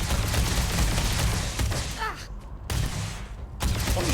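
Video game gunfire in dense, continuous bursts, loud and close, with a short drop in the middle before the shooting resumes.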